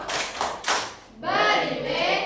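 Children in a classroom clap together in a rhythmic cheer, a few loud, close bursts of clapping followed by a voice chanting.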